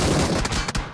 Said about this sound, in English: they can't hold themselves when they hear gunshots from the nearby areas